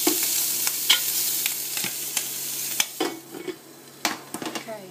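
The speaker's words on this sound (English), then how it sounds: "We just want to cook this bacon." Bream fish and bacon sizzling together in a frying pan, a steady close crackle with repeated sharp scraping and stirring clicks from a utensil against the pan.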